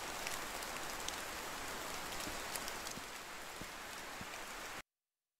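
Steady rain falls in Medieval Dynasty, a dense, continuous hiss of drops with a few sharper patters, loud and even throughout before cutting off abruptly.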